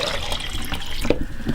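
A mixture of coffee and water is poured from one container into another, giving a continuous splashing, gurgling flow that is close and fairly loud, with no voices.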